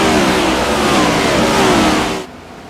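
Several racing engines roar loudly and close in a high-speed oval league race, revving hard as they pass, then cutting off abruptly near the end.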